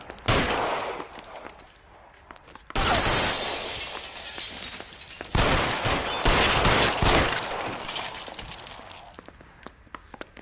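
Gunfire from the video game L.A. Noire: repeated loud bursts of shots and shattering impacts arrive in several clusters over ten seconds, with brief quieter gaps between volleys.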